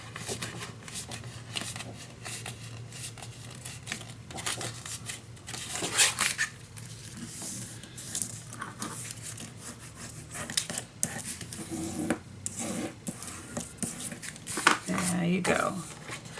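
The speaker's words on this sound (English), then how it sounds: "Let's fold the 1/8." Paper being folded and creased by hand for a moody burgundy scrapbook mini album, with soft rustling, sliding and rubbing scrapes that rise into brief crisp crackles, close and fairly quiet over low room noise.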